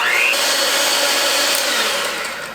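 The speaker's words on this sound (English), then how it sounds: "I'm going to beat my cream cheese" An electric mixer whirs steadily as it beats cream cheese for an Instant Pot New York cheesecake, a loud close motor drone that eases off slightly at the end.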